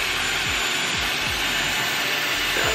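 A Dyson Airwrap hair styler runs at full blast while curling hair, giving a loud, steady airflow roar with a high whine throughout and no talking.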